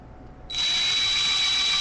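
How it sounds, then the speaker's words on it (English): A power drill whirs steadily, close and loud, as it drives screws down through the crown of a figure to anchor a hat to its head; the motor starts abruptly and runs continuously with no speech. "I'm going to put a couple of screws down through his crown to anchor"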